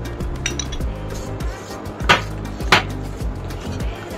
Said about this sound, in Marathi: आणि सतत ढवळत राहायचं, नाहीतर मग ते कशा गुठळ्या तयार होते